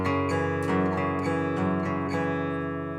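Guitar plucked with three fingers at once on the bass note and the 4th and 3rd strings, sounding as a run of fingerpicked notes with a steady low drone, close and sustained without any voice.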